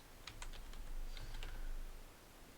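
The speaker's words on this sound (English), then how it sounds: "Type it." Keys clatter faintly in a short burst of typing on a computer keyboard, a handful of light taps buried under a steady hiss and low hum.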